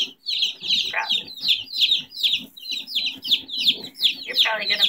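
Baby chicks cheep constantly and close by, a dense stream of bright, rapid peeps with brief pauses and a few louder squeaky calls.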